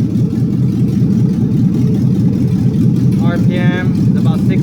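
A 6.2L L99 V8 in a 1974 Nova idles steadily at low revs right after its first start, a continuous loud rumble with a faint whistle near the end and a voice speaking briefly.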